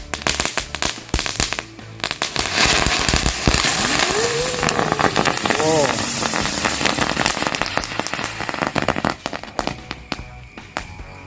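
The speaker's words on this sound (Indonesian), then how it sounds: "yang selanjutnya kita nyalain 1 pok mercon bunga teratai warna hijau" A green lotus-flower firecracker lit at night during Ramadan fizzes and crackles for several seconds in a dense, sputtering spray, with brief whistling tones rising midway before the crackle thins out.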